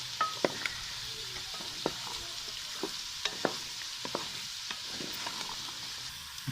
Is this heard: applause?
no